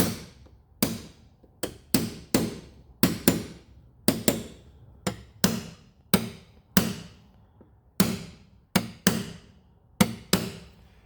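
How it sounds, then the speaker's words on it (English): Center punch tapped on a thread lip of a Jayco handle mount, roughly twenty sharp metallic taps in an irregular, steady rhythm, close and clear with nothing else behind them. "give it a gentle tap down with a center punch, just to flatten it out again"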